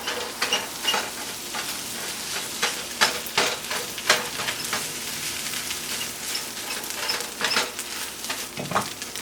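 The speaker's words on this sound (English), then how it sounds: "fry the onions a little bit in the middle. Give it 30-40 seconds. Make sure it's aromatic before we stir." Onions sizzle steadily in a hot pan while a utensil stirs them, with repeated scraping clicks and bursts over the constant close frying hiss.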